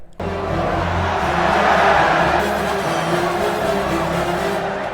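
A roaring arena crowd cheers in a gladiator fight in the film Gladiator, a continuous, loud, washing roar that swells and holds without a break.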